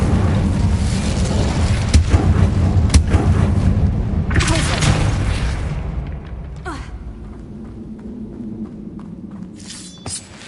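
Incendio fire spell cast in Hogwarts Legacy, heard as loud, close bursts of fiery blasts and booming whooshes in quick succession that fade into a quieter rumble with a final sharp crack.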